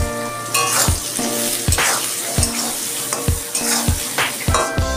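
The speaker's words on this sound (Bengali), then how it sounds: "এবার আমি আলুটা একটু ভেজে নিচ্ছি।" Potato pieces frying in hot oil with salt and turmeric, a loud close sizzle broken by regular spatula scrapes and clinks against the pan roughly every second, with no voices.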